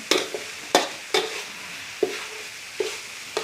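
Minced pork khua kling being stir-fried in a pan, with sharp spatula scrapes and clacks landing every half second or so over a steady dry sizzle, close and fairly loud, no voices.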